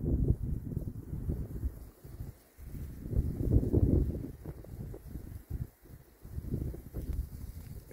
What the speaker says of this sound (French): Bon, ce matin, ça souffle encore beaucoup.